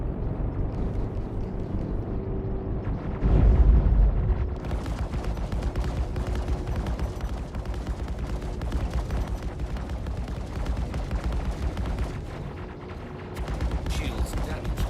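Turret gunfire from a ship in the Star Citizen space game, a dense continuous barrage with a heavier burst near the start, steady and loud throughout the clip.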